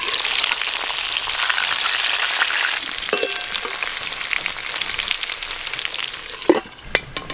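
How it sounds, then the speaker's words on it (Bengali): Stuffed pointed gourd (potol) frying in a pan, a continuous close sizzle with occasional sharper crackles and knocks as the pieces are pressed and turned. "চাপা দিয়ে দিয়ে পটলগুলো একটু ভালো করে ভেজে নেব"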